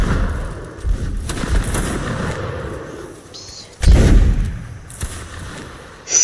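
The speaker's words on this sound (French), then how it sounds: "j'ai vu un boulet de canon passer" Cannon fire booms in a video game, with a heavy thud near the middle over a rumbling battlefield background, plus scattered fainter blasts and clatter with no voices.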